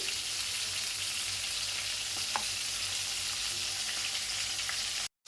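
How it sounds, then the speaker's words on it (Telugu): Brinjals fry in oil in a pan with a steady, even sizzle that holds at one level, broken by a single faint clink, before the sound cuts off abruptly near the end. "మనకు ఈ వంకాయ కొంచెం ఫ్రై అయ్యేలోపు"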